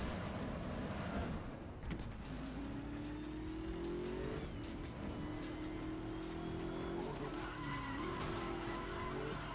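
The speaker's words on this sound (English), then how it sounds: "Cars crashing, me crashing." Cars in a multiplayer PC race of Need For Speed Most Wanted roar and rev loudly while tires squeal in long, rising skids that carry on through most of the stretch.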